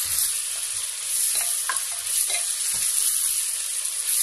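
Half-cooked onions and red paste for masala chicken sizzle steadily in a pan while a spoon stirs and scrapes a few times, close and continuous, with no talking.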